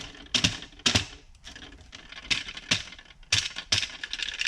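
A loose fuel level sender part from a Porsche 996 rattling as it is shaken by hand, with sharp irregular metallic clicks and clatters in quick bursts, close and fairly loud.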